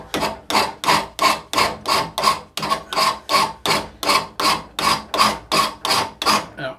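A Shinto saw rasp is pushed over wood in steady rasping strokes, about fifteen evenly spaced rough scrapes that are loud and close. No one talks over them.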